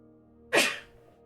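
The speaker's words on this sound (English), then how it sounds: "God, I hope future me edits out that sneeze." One sudden, sharp human sneeze bursts out close to the mic over a quiet room hum, then fades quickly, with no talking around it.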